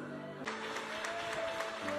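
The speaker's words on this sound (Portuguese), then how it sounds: "As palmas mais forte para Jesus, mais forte, irmãos." A church congregation claps steadily in rhythm. The clapping is loud and close, with a sustained musical tone playing underneath.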